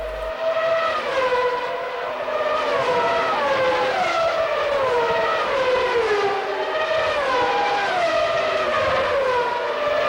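Formula 1 cars of the 1994 season, including a Benetton, Williams and Ferrari, scream past on the Adelaide street circuit, their high-revving engines wailing in overlapping, pitch-shifting waves that stay loud and continuous throughout.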